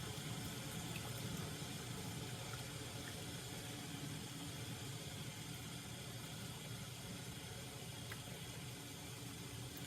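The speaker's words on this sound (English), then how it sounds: "now I'm going to add a bit more of my sauce, my milk." Milk poured into a pan of white sauce for mac and cheese, heard as a steady continuous liquid pour and hiss, close and even throughout with no talking.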